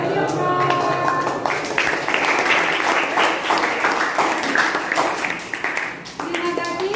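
A class of students applauding, dense sustained clapping close by for several seconds, tapering near the end, with a voice talking over it at the start and finish.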